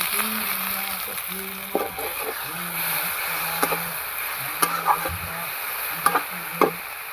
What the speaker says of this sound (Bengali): মশলাটা ভাজা হয়ে এবার আমি দিয়ে দেবো জিরে বাটাটা